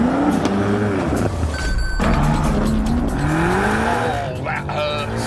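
A BMW M5 saloon accelerates hard, its engine note climbing loud and close with rising pitch sweeps, under a voice talking over the noise.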